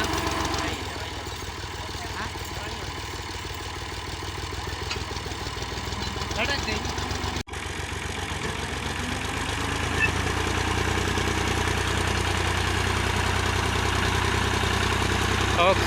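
A tractor engine idles and runs steadily while its sugarcane trolley is stuck in a village pothole, a constant mid-low drone with a brief dip midway and talk faintly underneath.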